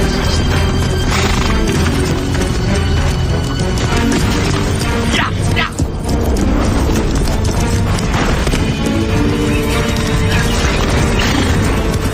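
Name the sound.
horses neighing and hooves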